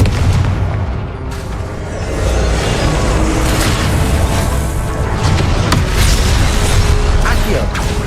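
Confringo fire spell explosions in Hogwarts Legacy, loud booming blasts layered in a continuous dense roar of combat noise, with mechanical clatter and bursts throughout.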